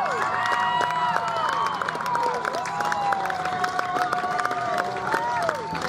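Spectators at a BMX bicycle stunt show cheer, whistle and clap throughout, a lively outdoor crowd with shouts and applause continuing at steady volume.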